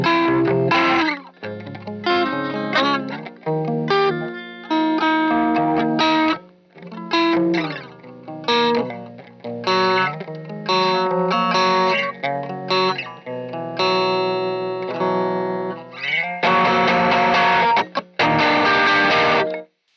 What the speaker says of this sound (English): that's just about one of the most dynamic overdrive distortion sounds that I've ever really heard out of a guitar pedal